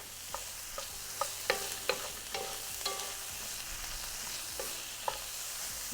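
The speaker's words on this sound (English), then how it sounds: "I'm gonna add the garlic. Give it a nice stir." Garlic sizzles softly in a pan while a utensil stirs it, clicking and scraping against the metal in a string of sharp taps over a low, steady frying hiss.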